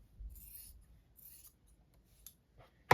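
Quilting fabric is snipped with scissors in a few quiet, separate cuts, soft rasping strokes spaced out in a hushed room, ending in a sharp louder clack.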